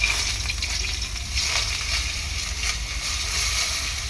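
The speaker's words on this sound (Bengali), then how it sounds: "এই যে বেগুন নিয়ে নিয়েছি, এদিকে আমি বেগুনটা ভালো করে ভেজে নেব।" Eggplant frying in hot oil gives a steady, dense sizzle with a low hiss, unbroken and close throughout, with no voices over it.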